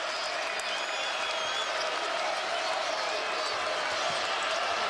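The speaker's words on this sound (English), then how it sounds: "This Husky crowd trying to get their team back into it. Getting very vocal now." Home crowd at a UConn Huskies men's basketball game against Marquette roars steadily in the arena, a broad, continuous wash of cheering and noise with no break.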